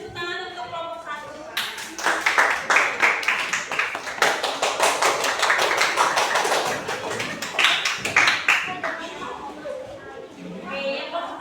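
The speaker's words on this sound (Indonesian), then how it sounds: "Kasih beri tepuk tangan untuk kelompok 1." A classroom of students claps for group 1 during a micro-teaching lesson, a burst of brisk, fairly close clapping lasting several seconds, with a voice speaking before and after.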